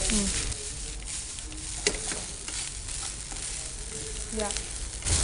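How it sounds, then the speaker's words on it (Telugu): Fresh grated coconut fries in a pan until brown, giving a steady, close sizzle with occasional stirring scrapes throughout. "బ్రౌన్ కలర్ వచ్చేంత మటుకు జస్ట్ మనం కొద్దిగా ఫ్రై చేసుకుంటే సరిపోతుంది"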